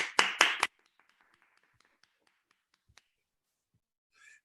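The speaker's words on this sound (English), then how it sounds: "I'm going to clap." Two quick hand claps at a storytelling swap festival, close and sharp, followed by a few faint scattered taps and a soft distant noise near the end.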